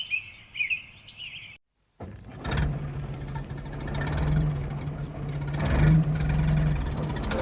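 Edward, a steam engine in a railway yard, shunting: a steady low engine rumble and chuffing builds after birdsong and a brief silence, growing louder with rhythmic pulses and a sustained hum.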